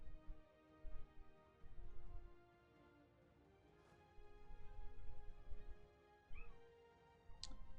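A pet cat meows several times indoors, short faint cries spaced apart over a quiet room with soft background rumble.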